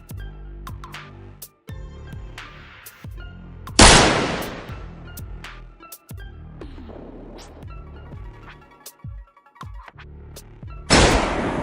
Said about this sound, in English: Nick shouldered his rifle and pulled the trigger.